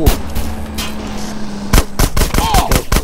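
Police gunfire in GTA San Andreas: a rapid series of loud, sharp gunshots crack in quick succession, some in clustered bursts, with a brief shouted voice mixed in.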